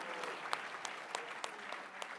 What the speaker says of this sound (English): Would you give all those people a huge round of applause?